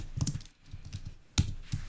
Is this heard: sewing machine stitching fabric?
no